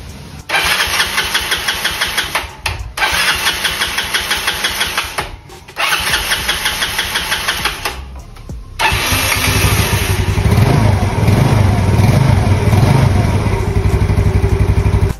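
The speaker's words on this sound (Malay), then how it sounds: "So jom kita try start engine ni" A Yamaha Ego S motorcycle engine with a new carburetor cranks in several bursts, sputtering and cutting out, then catches and settles into a steady, loud idle close by.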